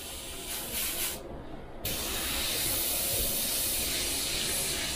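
An airbrush sprays very thin paint at low pressure, making a steady, loud hiss that stops briefly and then resumes continuously, close up with no talk.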